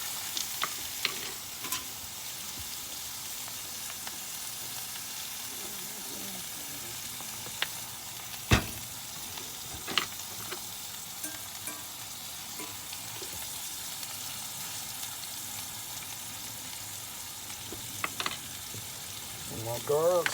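A steak fries in oil in a pan, giving off a steady broadband sizzle throughout, with occasional sharp clicks and clatters of utensils against the pan and no talk over it.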